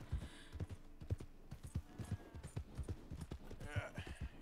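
Horse hooves clip-clop in a steady walking rhythm in a Western-style video game, close but soft, with occasional faint speech.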